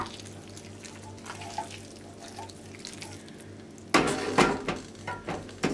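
Sumac-infused water poured over stuffed grape leaves in a pot, a soft watery trickle followed by louder splashing and clattering pot sounds in the last couple of seconds.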